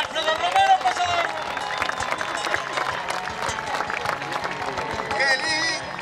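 At an outdoor rodeo-style bronc-riding competition, a crowd claps and cheers for a rider while an announcer keeps talking over them at a moderate, steady level.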